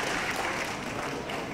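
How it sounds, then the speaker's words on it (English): An audience at an awards ceremony applauds, forming a dense, even wash of clapping that holds steady throughout the short moment. "that deserves an applause"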